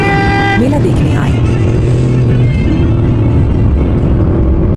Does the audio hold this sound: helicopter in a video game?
no